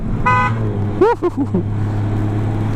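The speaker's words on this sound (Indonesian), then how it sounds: "Dan klakson mobil loh" A Honda Goldwing Tour DCT 2019 motorcycle sounds its car-like horn in one short, loud toot, followed by someone speaking briefly over a low engine hum.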